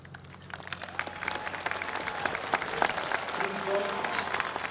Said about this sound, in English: giving a huge thank you and a round of applause to these amazing men and women